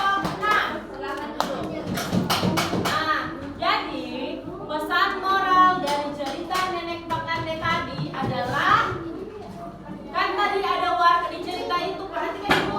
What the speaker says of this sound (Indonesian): tepuk tangan dulu untuk Inara kelompok 6